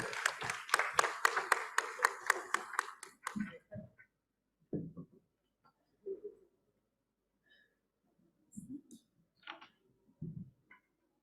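Conference audience clapping for a panelist's felicitation: a few seconds of brisk, fairly close claps in a regular rhythm that stop abruptly, followed by quiet with scattered faint taps and brief murmurs.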